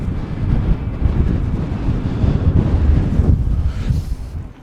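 Strong wind blowing outdoors at a fly fishing spot in the Black Hills of South Dakota, roaring and buffeting the microphone as a steady loud rumble with gusts, and no talking.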